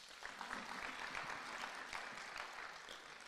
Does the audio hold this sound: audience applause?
yes